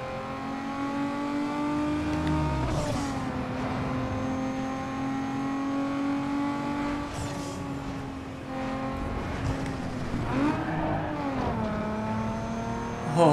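Car engines roar in the racing video game Need for Speed Underground 2 on PS2, revving steadily with several sharp shifts and pitch drops, loud and continuous with no talk.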